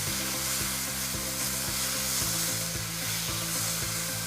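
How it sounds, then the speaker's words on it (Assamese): Constant sizzle of potatoes frying with onion and tomato, with a rhythmic, repeating mechanical hum or beat underneath; no speech. "এতিয়া এইখিনি অলপ সময় ভালদৰে ভাজি থাকিম।"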